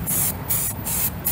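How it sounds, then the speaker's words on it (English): An aerosol spray can paints a motorcycle part in short hissing bursts with brief gaps between them, loud and close. "I don't want to overdo it and spray somewhere too much"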